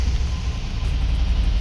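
A Fiat Multipla Natural Power running on natural gas idles close by with a loud, low, rough rumble that stays steady, likened to a tractor.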